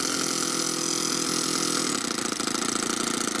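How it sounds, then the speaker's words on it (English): A 4-stroke overhead cam engine fitted in an RC car idles with a steady, loud, throbbing drone, rough and diesel-like, that wavers slightly near the end. "Idles away. Kind of sounds like an old school diesel."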